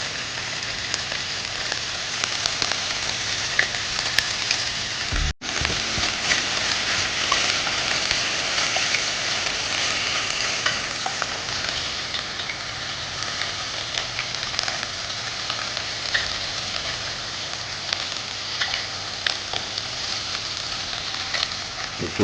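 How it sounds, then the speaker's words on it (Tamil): Chicken sautés in a pan with onion and curry leaves, giving a steady, loud sizzle and crackle that runs without a break, with one brief clatter partway through. "இந்த சிக்கனு எல்லாம் இதோட சேர்ந்து வதங்கி வரா மாதிரி பார்த்துங்க."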